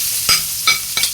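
Onion and garlic sautéing in a hot pan, with a bright steady sizzle broken by three quick stirring scrapes about a third of a second apart, close and with no voices.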